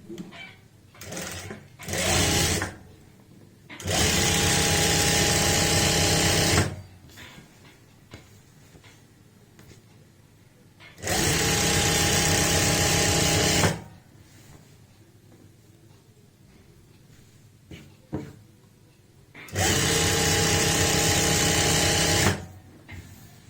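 Sewing machine stitching a palazzo trouser seam with a half-inch margin, three loud sustained runs of rapid whirring separated by quieter gaps with small handling clicks.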